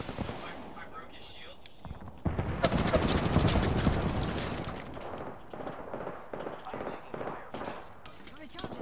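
Apex Legends gunfire: a loud burst of rapid automatic fire lands near the middle, then a string of spaced individual shots follows, with people talking over the fighting.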